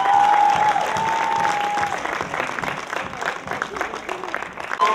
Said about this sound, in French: Vous avez applaudi comme si elle n'avait rien fait ce soir.